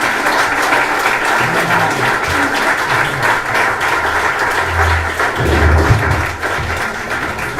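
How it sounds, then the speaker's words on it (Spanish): Sustained applause from a conference audience in Aragón, steady and dense throughout, with low murmuring voices and some movement underneath. "con el aplauso que ahora te dan"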